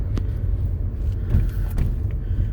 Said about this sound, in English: I'm driving again